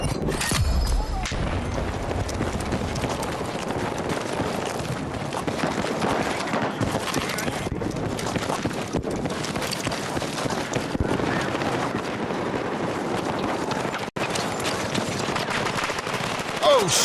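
A grenade blast and bursts of automatic gunfire in the PUBG video game crackle densely and loudly throughout, with repeated shots and booms layered over game noise and a player talking now and then.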